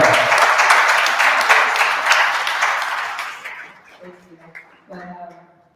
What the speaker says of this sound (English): I think we should give her an applause